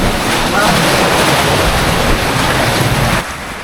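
Mediterranean Sea waves on the Alexandria coast, a loud, continuous wash of surf and wind rumble close by that drops off slightly near the end.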